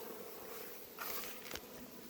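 A dense, steady hum of many honeybees bearding outside a crowded hive, constant and fairly quiet, with a few brief louder swells as individual bees pass nearby.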